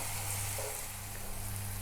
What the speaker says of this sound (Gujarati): હવે ગેસની ફ્લેમ હાઈ કરીને 2 મિનિટ ચડવા દઈશું ભાજીને।